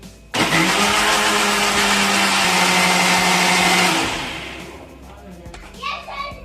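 A mixer grinder blending muskmelon starts abruptly and whirs loudly for about four seconds, then winds down, followed by faint children's voices in the background.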